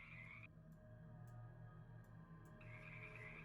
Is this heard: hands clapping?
no